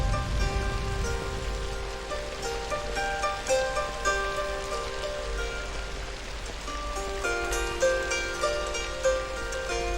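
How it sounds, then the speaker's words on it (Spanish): Heavy monsoon rain pours steadily over the Borneo rainforest, a dense, continuous hiss of drops on foliage with a low rumble beneath, steady and enveloping with no voices. "Entonces no para de llover, algo realmente insoportable incluso para un orangután."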